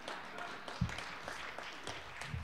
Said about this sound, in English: I got applause from about half the audience